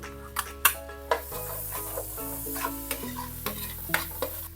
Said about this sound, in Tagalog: Lutuin lang natin ng bahagya yung sibuyas ng mga 1 minute.